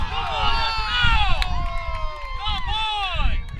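Spectators at a high school girls' softball game let out a loud, drawn-out collective groan and jeers of disapproval, rising and falling in waves of crowd voices.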